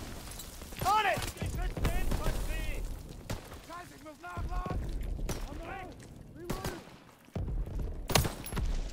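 Gunfire in the Call of Duty WWII D-Day campaign on Xbox One: sharp shots and bursts scattered among shouting voices, with booms and mechanical clatter in between.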